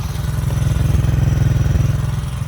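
A motorcycle engine runs close by with a fast, even, throbbing putter, loud and steady for a few seconds with no voices over it.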